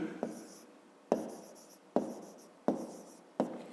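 Pen on paper during a fifth-grade maths exercise, with short scratchy writing strokes in about five separate bursts, each starting with a tap, close and fairly quiet, with no talk.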